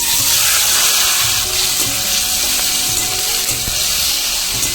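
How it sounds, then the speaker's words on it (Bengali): Chopped tomato hits hot oil in a pan for a Bengali small-fish curry, giving a loud, steady sizzle with crackling pops throughout and no voices. "বন্ধুরা আমি তেলের উপরে টমেটোটা দিয়ে দিয়েছি"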